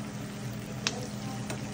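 Green chiles frying in hot oil for green salsa, a steady close sizzle with a couple of brief pops or stirring clinks.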